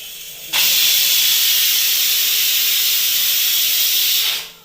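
A pressure cooker lets off a loud, steady hiss of steam that starts abruptly, holds for about four seconds close by and then tapers away.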